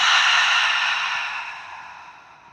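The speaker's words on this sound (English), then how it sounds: "And exhale." A deep, breathy exhale during yoga breathing, a single long airy release that starts strong and fades gradually over a couple of seconds.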